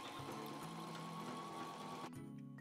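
A sewing machine stitches the folded top hem of a fabric tassel bag, producing a quiet, steady rapid whirr of needle strokes that stops abruptly near the end, leaving faint room tone.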